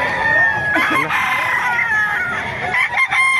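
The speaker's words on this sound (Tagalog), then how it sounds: "Maraming manok dito sa Bukawi." Several chickens crowing and clucking close by at a market in Bocaue, Philippines, overlapping calls and cackles filling the whole stretch without pause.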